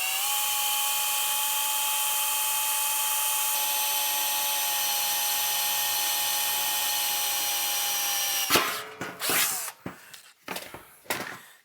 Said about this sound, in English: So we're going to start off with drilling our first hole.